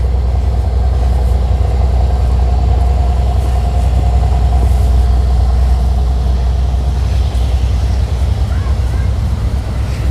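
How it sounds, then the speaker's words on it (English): A noisy red car on a street in Astoria, New York City, gives off a loud, steady low engine rumble that carries throughout, mixed with general street background. "this guy has a noisy red car to attract as much attention as he can"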